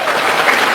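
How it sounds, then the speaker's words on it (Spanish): A church congregation breaks into brief, dense, loud applause, a short continuous burst of many hands clapping with no voices on top. "un aplauso"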